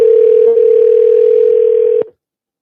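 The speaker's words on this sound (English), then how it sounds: "Morgan, here comes a phone call, dear." A steady, unbroken telephone dial tone hums loud and close for about two seconds, then cuts off abruptly into silence.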